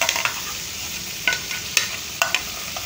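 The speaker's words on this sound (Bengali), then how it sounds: "পেঁয়াজটা একটু তেলে নেড়ে চেড়ে তার মধ্যে হলুদ আর মশলাগুলো দিয়ে ভেজে নেব" Onions and green chillies fry in oil for a shrimp and pumpkin curry, giving a steady close sizzle broken by a few sharp utensil scrapes and clicks from stirring.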